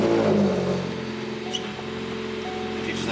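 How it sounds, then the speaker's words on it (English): A Ford Focus RS engine runs at a steady low idle close by after an auxiliary port injection install, with people talking over the rumble. "And then next step would be to crank the car."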